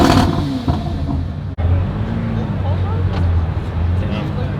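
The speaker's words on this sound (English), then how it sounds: "But let's go ahead and get some revs." A car engine revving at a large car show, a rumbling exhaust note rising and falling amid crowd noise, with people talking nearby.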